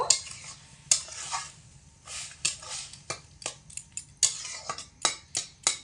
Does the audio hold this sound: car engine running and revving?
no